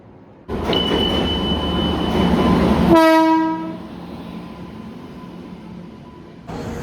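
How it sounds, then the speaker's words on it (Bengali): A train pulls into a railway station with a loud rumbling roar, then sounds one strong horn blast partway through before the noise drops to a quieter hum. Nobody speaks. "ওই নেক্সট ট্রেনটা আসলো।"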